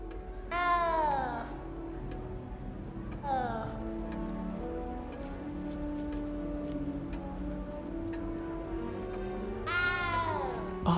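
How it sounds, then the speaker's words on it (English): A frightened cat in the Hogwarts Legacy video game meows three times, near and clear, over a steady game ambience with speech underneath. "You don't need to be frightened, little cat."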